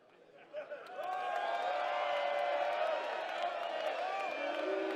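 Crowd at a BODYSLAM professional wrestling show cheering loudly and steadily, a sustained roar of voices with scattered whoops that swells in after a brief quieter start and holds for several seconds.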